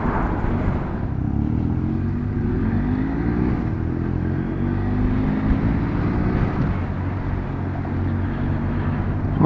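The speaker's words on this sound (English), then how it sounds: "I do love the sound of that" BMW R1200S motorcycle fitted with an Akrapovic exhaust, its engine droning steadily with rising and falling pitch as it rides along, loud and continuous with no talk.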